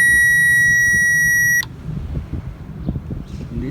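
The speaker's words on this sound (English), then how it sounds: "When you touch the terminal, you get the beep." A loud, steady electronic beep from a power probe touching a fuse terminal on a Dodge Caravan sounds for about a second and a half, then cuts off, leaving quiet rustling and handling noise.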